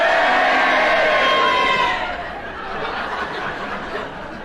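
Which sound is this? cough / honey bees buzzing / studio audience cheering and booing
studio audience cheering and booing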